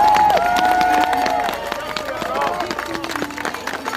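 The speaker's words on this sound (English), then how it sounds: "Heartwarming applause on a cold December morning" An outdoor crowd applauds on a cold December morning, with a dense patter of clapping mixed with voices and a few tonal sounds, easing off after a couple of seconds.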